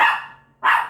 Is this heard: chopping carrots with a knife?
no